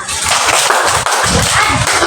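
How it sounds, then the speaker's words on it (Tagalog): A classroom of students gives a loud, sustained round of applause, dense clapping filling the whole stretch without a break. "bigyan ako ng isang malakas na palakpak"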